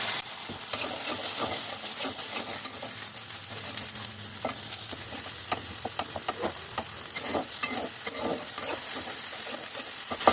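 Onion paste sizzles and fries steadily in oil in a pan for a home-style chicken roast, with frequent scraping stirs and clinks breaking through the continuous close hiss.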